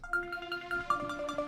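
Synth patch from the Expand plugin, a bright tonal tone with sustained notes and short plucked accents repeating in a quick, even rhythm, clean and alone.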